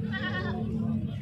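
A young goat about eight or nine months old bleats once, a loud, wavering cry up close that fades into steady background rumble.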